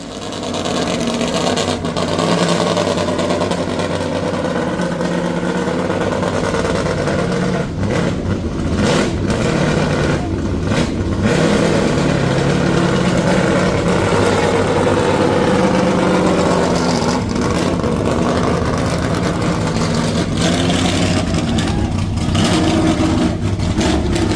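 A Toyota MR2 engine revs hard and continuously throughout a hill climb run at Shelsley Walsh, loud and close, with repeated surges as the car accelerates and shifts up the course.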